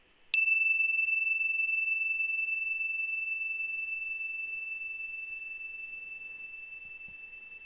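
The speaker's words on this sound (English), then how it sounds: "we're noticing the sound of the bell moving through the present moment" A single bell is struck once, ringing out clear and bright, then sustains a long pure tone that slowly fades in a quiet space.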